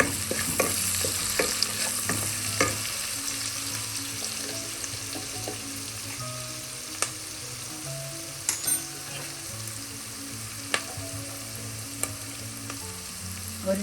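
Vegetables with turmeric and garam masala frying in oil for a vegetable pulao, a steady close sizzle throughout with a spatula scraping and tapping the pan now and then.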